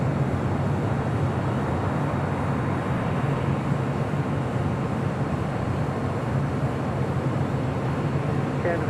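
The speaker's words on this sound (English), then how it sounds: "The Big Q, Qatar Cargo, coming in from Amsterdam, flight 8105" Steady jet roar of a Qatar Cargo freighter arriving from Amsterdam onto runway 25 left at LAX, a broad, loud, continuous rumble that stays even throughout.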